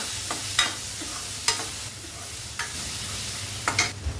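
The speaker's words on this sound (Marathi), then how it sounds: "आपला हा मसाला छान परतला आहे त्यामध्ये घालूया एक टोमॅटो परत परतूया" Tomato sautés in masala in a pan, a soft continuous sizzle with a few distinct spatula stirs and scrapes spaced about a second apart, close but fairly quiet.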